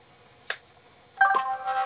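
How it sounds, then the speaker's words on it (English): A phone text message alert in a garage shop, a brief click followed by a short bright electronic chime tone, close and fairly loud. "Text phone just went off."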